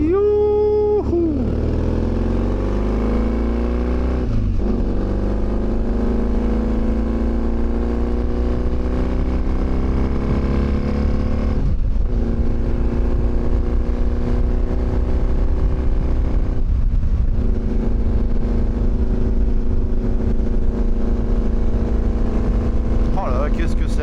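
Yamaha 750 XTZ motorcycle riding on light throttle, a steady close engine drone with harmonics rising and settling through the run, continuous and loud with no break.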